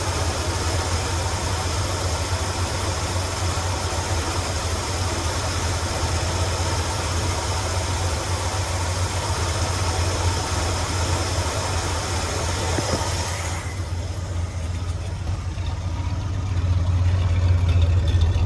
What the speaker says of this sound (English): Now it's kind of just a solid idle.